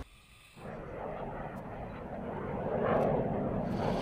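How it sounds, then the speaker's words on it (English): A jet aircraft roars overhead during a combat search and rescue water exercise, a steady broad rumble that swells louder as it passes. "Actually seeing the jet come in overhead"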